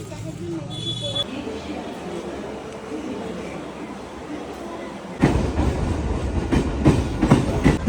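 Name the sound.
train at a railway station platform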